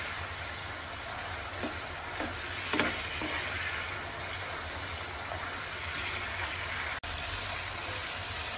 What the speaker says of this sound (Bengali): দেখুন আমরা খুব ভালোভাবে এই টক দইটা দিয়ে কষিয়ে নিয়েছি।